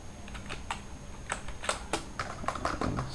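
Someone types a Python input prompt on a computer keyboard, a short run of soft, close keystrokes tapping at an uneven pace with no voices.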